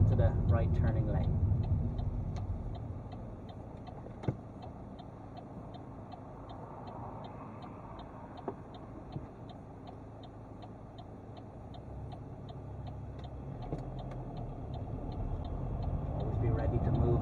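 Car turn signal ticking during a driving lesson, a quick, regular click continuing through the middle of the stretch under a low engine hum, with an instructor talking.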